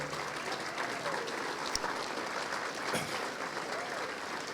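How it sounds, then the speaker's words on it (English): Steady audience applause at a chamber of commerce annual meeting, a dense continuous patter of many hands filling the room at an even level, with a couple of sharper claps standing out. "so we can give you a little bit of applause there"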